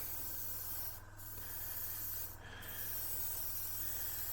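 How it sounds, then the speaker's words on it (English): A continuous hissing spray from an aerosol paint can over a mask on a plastic model aircraft, briefly pausing twice, close and steady with no voices. "Try and spray 90 degrees to the mask, so if there is any slight lift, you'll avoid bleed through."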